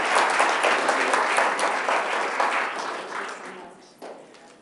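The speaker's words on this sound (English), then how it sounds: "let's give him a round of applause." Sustained audience applause at a Rochester school board meeting, loud and dense from the start and gradually tapering off over several seconds, with a few scattered claps near the end.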